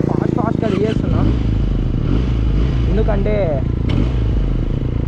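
A Benelli 302R motorcycle engine hums loudly and steadily up close, its pitch rising and falling slightly, while someone talks over it.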